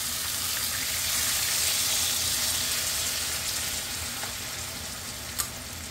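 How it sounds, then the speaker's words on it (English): Tomato sizzles and fries in a hot pan for sofrito for borracho beans, a steady broadband hiss holding throughout with a single sharp click near the end and no voices. "So I'm gonna put the tomato here."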